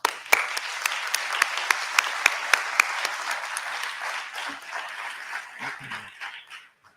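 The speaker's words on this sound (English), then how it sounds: "Big round of applause for you all." An audience applauds steadily at a live IFSS event in Chile, the clapping loud and sustained for several seconds with a few sharper claps standing out before it thins and fades out.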